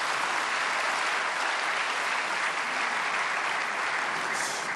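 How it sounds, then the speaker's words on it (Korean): A church congregation at a prayer service for peaceful reunification applauds in welcome of a university president, the clapping thick, continuous and evenly loud from start to finish. "노세영 총장님 박수로 환영하시겠습니다."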